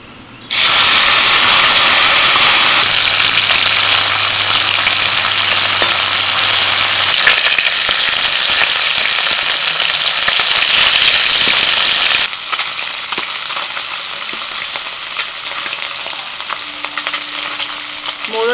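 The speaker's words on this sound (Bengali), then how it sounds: "এবার মৌরলা মাছগুলো ভেজে নেব।" Small mourala fish fry in hot oil with a loud, dense, continuous sizzle close by, dropping to a softer steady crackle partway through, with no talking.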